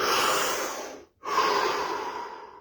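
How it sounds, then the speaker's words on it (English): One long, deep inhale and exhale close to the mic, a steady airy rush broken by a brief pause between the two breaths, calm and unhurried. "Deep breath."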